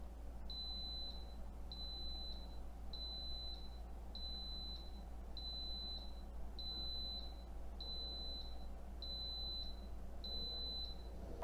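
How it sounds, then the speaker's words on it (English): Instant Pot electric pressure cooker beeping when its time is up: ten short, high electronic beeps at a steady pace, about one per second, over a low background hum. "once the time is up, you'll hear the pot beep"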